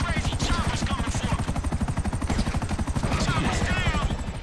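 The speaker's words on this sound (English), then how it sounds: "There's an attack chopper coming after me, dog!" Buzzard attack helicopter in GTA V thudding close and loud with steady rapid rotor chop throughout, with gunfire-like bursts and excited voices shouting over it.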